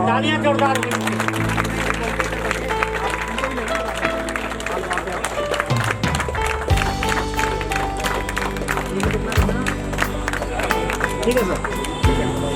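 Audience clapping at a retirement ceremony, a continuous patter of many hands under background music and scattered talk.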